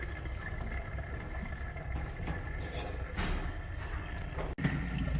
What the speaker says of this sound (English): We'll turn that on and we'll check we've got water.